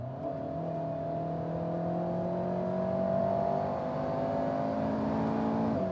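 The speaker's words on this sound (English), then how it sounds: "I'm going to put foot down." An Alpine A110 GT accelerating hard in normal mode, its engine note climbing steadily through the revs with rising harmonic tones, heard from inside the car at a strong, even level with no talk.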